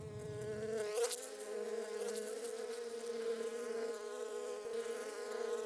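Honeybees swarm over almond blossoms during orchard pollination in California's Central Valley, a steady droning buzz of many insects close by, continuous and fairly quiet, with a brief louder pass near the start.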